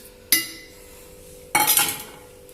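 Desi ghee being stirred into a seekh kabab mince mixture in a bowl, giving two short bursts of scraping and clinking from a spoon or utensil against the dish, separated by a pause and heard up close with no talk.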